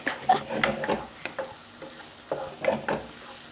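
Thai garlic and pounded chili fry in hot oil for a holy basil stir-fry, giving a continuous sizzle broken by repeated scraping stirs of a utensil in the pan, close and moderately loud.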